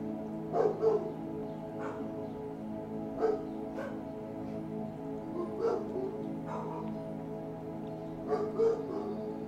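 Dogs bark in several separate bursts of a few barks each, slightly distant and spaced a couple of seconds apart, over a steady hum during a live recorded meditation session.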